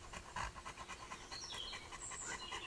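A dog pants in quick, steady rhythmic breaths, close by and fairly soft, with no talking over it.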